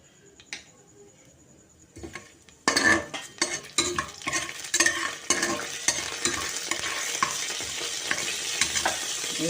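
Whole spices hit hot oil in a pan for pea ghugni, bursting into a loud, steady sizzle after a quiet start, with scraping stirs and utensil taps against the pan throughout.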